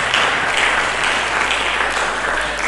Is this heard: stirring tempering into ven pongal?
no